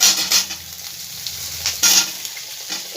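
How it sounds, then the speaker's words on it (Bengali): Papaya pieces added to potatoes already frying in a pan, sizzling steadily with a couple of louder bursts of spatter and stirring scrapes, close and without talk. "পেঁপেটা দিয়ে দিলাম।"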